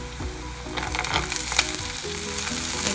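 A handful of peas fries in a hot pan with a loud, dense crackling sizzle, broken by repeated scraping and stirring strokes, all close and without any voices.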